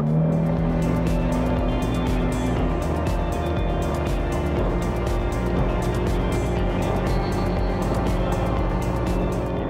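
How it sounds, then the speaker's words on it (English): A motor boat engine at full throttle, a loud, steady roar at high revs, droning continuously without letup, close and powerful. "I'm about to put full throttle."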